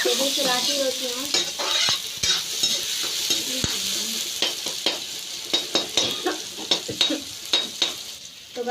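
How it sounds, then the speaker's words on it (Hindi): Tomatoes with salt are stirred in a frying pan, sizzling steadily with repeated scraping and clinks of the spoon against the pan, close and continuous. "नमक डाल दूँगी, तो चलाती रहती हूँ"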